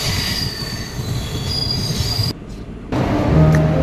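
A train pulling into Chennai Central railway station, its wheels squealing in a long high metallic whine over rumbling rail noise, loud and close, briefly dipping before resuming.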